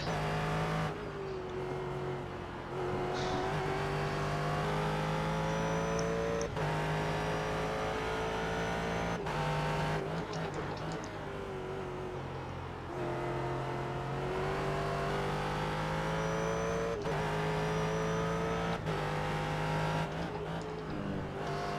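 Race cars lapping a track in the iRacing sim, including a Corvette, roar continuously with steady engine drone, shifting revs and the odd tire squeal, loud and unbroken.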